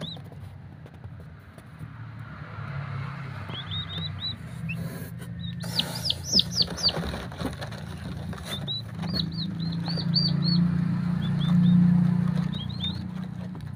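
Turkey chicks, ten hatchlings kept by a poultry keeper, give repeated high thin chirps in short bursts over steady low background hum, moderately near and fairly quiet.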